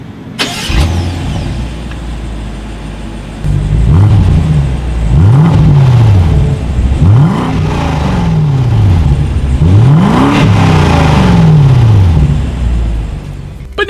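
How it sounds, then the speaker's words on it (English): Exhaust of a 2020 BMW 750i luxury sedan in sport driving mode, heard up close as the engine starts, settles into idle and then revs repeatedly in loud rising and falling sweeps. "if you put it in that sport driving mode, the exhaust note will be a little more pronounced"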